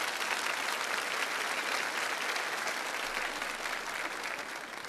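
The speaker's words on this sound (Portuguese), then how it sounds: "Uma salva de palmas." Steady applause from a church congregation, many hands clapping in a continuous even wash at moderate level throughout, with no voices over it.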